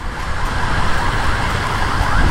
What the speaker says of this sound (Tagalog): Naririnig ko yung ambulansya.